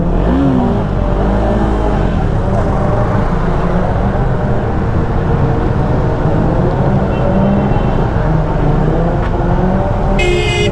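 Superbikes idle and rev at a Castrol Motorama event, a steady loud engine roar with rising and falling tones filling the whole stretch, crowd noise beneath and a brief high whine near the end.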